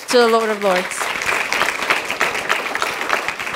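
Church congregation applauding during a Spanish-language sermon, a brief voice at the start giving way to steady, fairly close clapping that continues to the end.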